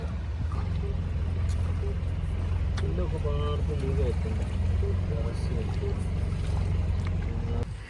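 A boat moving along the Alappuzha backwaters, its engine a steady low drone with water washing against the hull, close and continuous while people talk over it.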